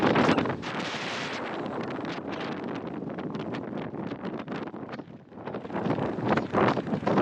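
Wind gusts buffet the microphone atop a desert mountain summit above a dried lake bed near Las Vegas, a continuous loud rushing roar that swells and dips throughout, with no voices.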